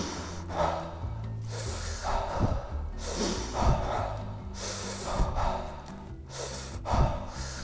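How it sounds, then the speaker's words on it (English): Heavy, rhythmic breathing into a telephone during a prank call, with repeated gasping inhales and snorting exhales in a steady cycle of about five breaths, close to the mouthpiece and fairly loud, with no talking. "I just wanted to listen to you breathe."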